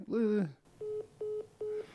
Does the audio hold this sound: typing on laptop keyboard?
no